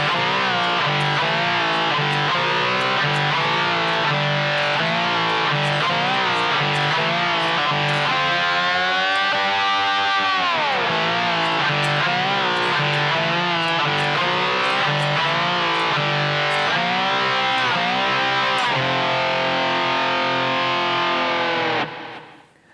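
Distorted electric rock slide guitar plays a full passage loud and alone, sustained chords with gliding slide bends and a sweeping dip near the middle, ringing out to a stop at the end.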